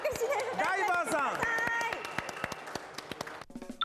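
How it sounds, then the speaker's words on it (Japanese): An audience claps for the diver at an aquarium show at Mariho Aquarium in Hiroshima. The scattered, brisk claps build beneath a presenter's amplified voice, then thin out into a few separate claps. "皆さん、大きな拍手で"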